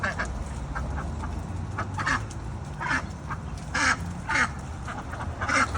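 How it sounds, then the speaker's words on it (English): Indian runner ducks quack repeatedly in short, nasal bursts, several calls overlapping at moderate distance over a steady outdoor background, with no talking. "These are Indian runner ducks."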